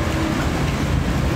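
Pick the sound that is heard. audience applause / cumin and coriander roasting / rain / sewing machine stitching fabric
rain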